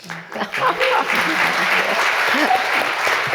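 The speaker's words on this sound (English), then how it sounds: "I think you deserve a lot of applause." Loud audience applause at a Las Vegas panel honoring trailblazing women, rising quickly and holding steady with some voices and cheers mixed into the clapping.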